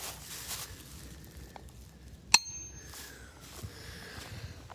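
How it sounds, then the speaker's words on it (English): A single sharp metallic ring from a hammer striking a ringing rock, bright and bell-like with a brief decay, over quiet outdoor background. "hitting rocks with a hammer"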